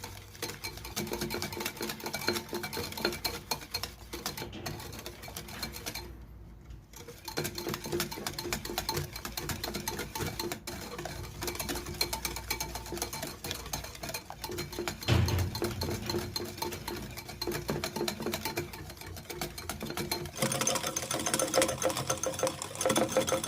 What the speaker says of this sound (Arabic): كنضربوها حتى كيذوب لنا السكر كيولي بيض